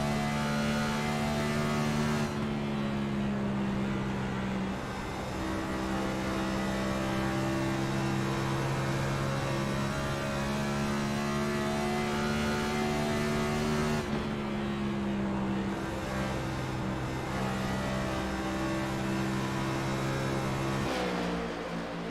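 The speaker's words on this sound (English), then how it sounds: "You can hear the revs letting off early into the corner." Onboard engine of a Cup Series stock car at Dover in a racing video game, a loud, steady high drone that drops in pitch twice as the driver lifts early going into corners, then climbs again, with no talk.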